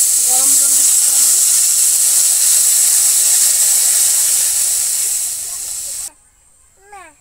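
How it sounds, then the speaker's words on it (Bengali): Hot water hits a hot cooking pot with potatoes and squash, a loud steady steaming hiss that fades and cuts off near the end, followed by a few brief thin squeaky sounds. "গরম জল দিচ্ছি আমি।"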